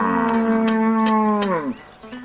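An Ankole cow on a large herd farm gives one long, loud, close moo lasting about a second and a half before tailing off, with no talk.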